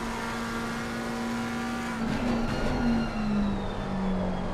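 McLaren GT3 race car at Suzuka in Assetto Corsa Competizione, its engine holding a steady high drone. The note wavers and dips slightly as the car goes through a corner, with faint tire noise.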